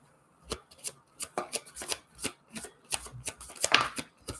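A deck of cards being shuffled at a table during a card-reading session, a rapid run of crisp riffles and taps in a steady rhythm, close and clear with no talking.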